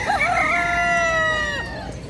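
A rooster crows once at a bird market, loud and close, a long drawn-out call that trails off at the end.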